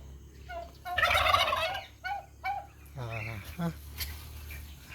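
Turkey hens gobble in loud bursts with chicks peeping among them, close by in a farmyard; someone talks quietly under the calls.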